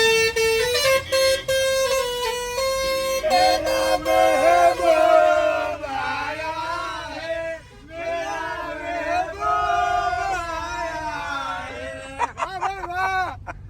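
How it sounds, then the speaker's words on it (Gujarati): A vehicle horn honks repeatedly at the opening of a Shiv Shakti Garba class in Ahmedabad. The honks are loud and sustained, over crowd noise and music throughout, with a burst of short toots near the end. "આ ભાઈ હોરન વગાડો તો આ ભાઈ આ હોરન વગાડો ને ભાઈ હોરન"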